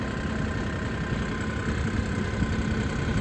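A Mahindra 5405 CRDi tractor engine idles steadily nearby at about 1300 rpm, a continuous low rumbling drone with no talking.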